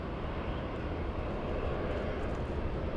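Lufthansa heavy jet airliner on its takeoff roll at LAX, a steady, broad roaring engine rush that holds at a constant loud level throughout.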